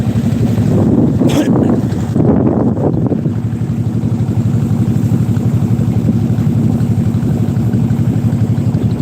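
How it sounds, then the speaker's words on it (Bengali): A boat travelling on the Padma river, its engine drone steady and loud throughout with wind buffeting the microphone, close up and continuous. "আমরা এখন নৌকাতে যাচ্ছি"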